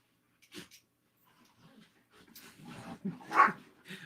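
A dog makes a few scattered short barks and whimpery yips close by, separated by quiet gaps, with a louder yelp near the end.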